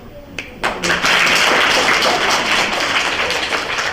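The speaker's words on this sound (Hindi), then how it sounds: "ताली बजाइए बेटा सब।" Applause from an audience at a school career fair ceremony: dense clapping swells in after a few loud individual claps and holds steady, with voices murmuring underneath.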